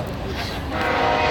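Train passing in a bustling town, a loud rumbling rush of rail cars with horn-like tonal notes swelling toward the end, continuous and close.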